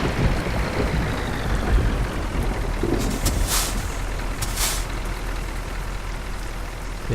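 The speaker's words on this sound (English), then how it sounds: "they've got the simulated air brake lines now" A Scania Streamline R-730 truck in Euro Truck Simulator 2 releases two sharp hissing bursts of air brakes over a loud, constant low engine drone.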